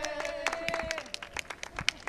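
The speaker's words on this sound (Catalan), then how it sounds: "Doncs un aplaudiment conjunt per tots vosaltres" Festival fans at a Canet Rock 2016 gathering clap together in a short, scattered burst of applause, fairly quiet and close, with a faint tonal sound fading early on.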